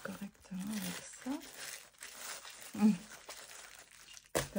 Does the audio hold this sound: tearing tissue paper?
yes